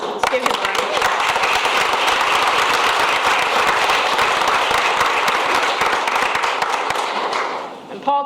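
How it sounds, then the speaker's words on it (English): Sustained applause from the audience at a school board of education meeting, dense and steady for about seven seconds before it tapers off near the end. "And let's give him a round of applause."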